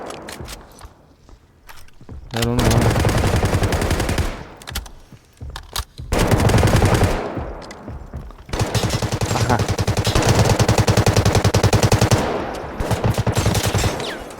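Rapid bursts of automatic rifle fire from Delta Force Hawk Ops crack loudly and close, in several long strings separated by short pauses, with footsteps and handling rattles between bursts; no voices.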